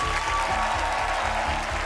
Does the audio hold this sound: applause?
yes